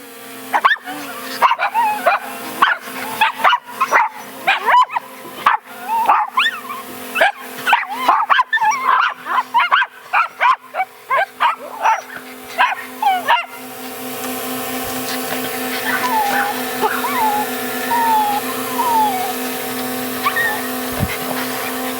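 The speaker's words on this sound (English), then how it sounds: "As you can see, the dogs go nuts" Several dogs bark frantically outdoors at a drone overhead, with rapid, overlapping barks and yips for about fourteen seconds, then only scattered distant yelps and whines under a steady hum.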